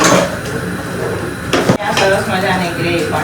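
Boiled vegetables are tipped into a simmering tomato-and-pea gravy in a pan, then stirred with a spoon that clatters and scrapes against the metal. There is a sharp knock midway, and a voice speaks over it.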